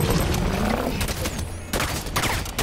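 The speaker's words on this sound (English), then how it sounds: "It's a missile launcher. Missile launcher fire like that." Missile launcher in Halo 5: Guardians fires with loud, dense blasts and rushing bursts that fill the moment, with a brief pause midway, no voices.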